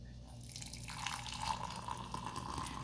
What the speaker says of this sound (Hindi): अब मैं आप लोगों को कप में डाल के दिखाती हूँ।